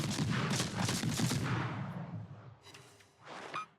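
A naval gun salvo from the destroyer USS Johnston in a video game: heavy booming shots in a quick rolling volley, fading into a lull before another muffled blast swells near the end.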